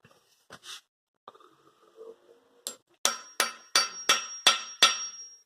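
A hammer strikes a tool driven into a drilled-out frozen oil galley plug: a few scattered taps and scrapes at first, then seven sharp, ringing metallic blows in a steady rhythm, close and loud, with no talking.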